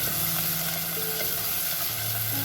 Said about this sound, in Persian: درب قابلممون رو میذاریم تا پیازمون با مرغمون یکم تفت بدیم